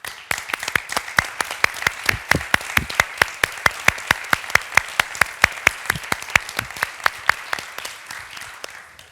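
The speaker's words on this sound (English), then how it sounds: "So I ask for an applause to Jean-Louis Cohen's legacy." An audience at an architecture lecture claps for a lasting stretch, with distinct, sharp hand claps falling in a fairly even rhythm, heard clearly and alone for about nine seconds.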